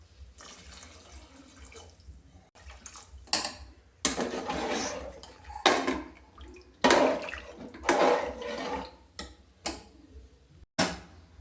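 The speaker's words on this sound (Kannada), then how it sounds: "ಈಗ ನೀರು ಹಾಕ್ತೇನೆ" Water is poured in irregular bursts into a pot holding rice and salt, splashing and gurgling up close with short pauses between pours.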